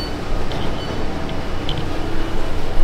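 Ride inside a colourful passenger train in Taiwan, a dense continuous rumble of wheels and carriage noise with faint squeaks and clicks on top, steady and close throughout.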